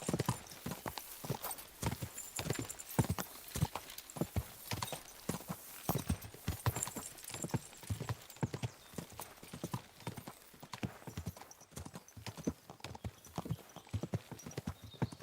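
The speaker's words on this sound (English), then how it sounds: "This must be the ugliest horse." Rapid, steady clip-clop of horse hooves trotting on a hard surface in the video game Kingdom Come: Deliverance II, a continuous rhythmic clatter that carries on throughout.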